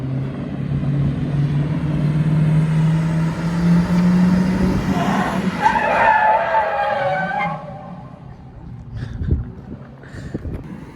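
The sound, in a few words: limousine drifting with tire skidding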